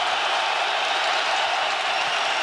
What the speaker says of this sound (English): The crowd's going wild for the youngster.